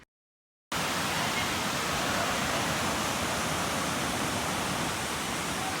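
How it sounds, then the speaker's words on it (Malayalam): The Kadavupuzha waterfall's constant broadband roar starts abruptly after a brief silence and holds steady and loud throughout, with no voices. "നമ്മൾ കടവുപുഴ വെള്ളച്ചാട്ടത്തിന് സമീപത്തെത്തി കേട്ടോ"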